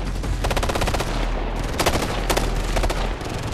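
Light machine gun fire in Ghost Recon Future Soldier rattles in rapid, sustained bursts with brief gaps, loud and close, over a low rumbling game backdrop.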